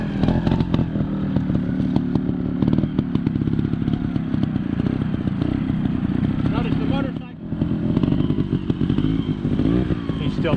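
A trials motorcycle rides a figure eight during a training session, its engine buzzing and revving steadily close by with a brief dip as it turns, under continuous talk.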